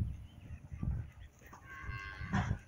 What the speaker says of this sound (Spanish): esa vaca ya tuvo el becerro, es el que ahorita acaba de chillar